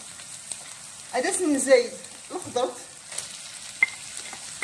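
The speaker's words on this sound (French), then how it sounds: "On va faire revenir la viande avec les oignons." Meat and onions sautéing in a pan for stuffed eggplant, a soft continuous sizzle with light stirring clicks, under a voice speaking briefly.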